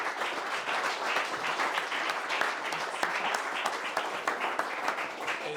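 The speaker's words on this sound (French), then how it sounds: "on peut l'applaudir." A seated audience at a talk applauds a business founder as she is invited to join them, producing continuous dense clapping that stays even and fairly loud from start to finish, with no voices over it.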